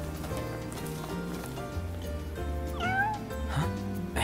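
A cat in Final Fantasy XV gives a short rising meow over steady background music, with a soft low chirp shortly after.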